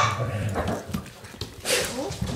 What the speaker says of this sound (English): It's Tana and Sandra's dog fighting. Well, not fighting, they're playing